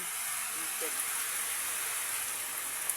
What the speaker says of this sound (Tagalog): Lakas naman ang ulan.